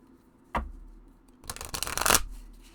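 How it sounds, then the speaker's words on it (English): A small oracle deck is shuffled up close: a single sharp tap, then a brief riffling flutter that swells and cuts off, quiet, with no talking. "Okay, so let's go ahead and shuffle."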